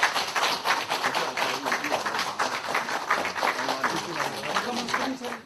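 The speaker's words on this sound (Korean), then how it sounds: "박수 한번 주시죠." An audience at a Korean fundraising ceremony for building schools and scholarships in remote Southeast Asian villages applauds, with dense, steady clapping from many hands sustained throughout, close and fairly loud.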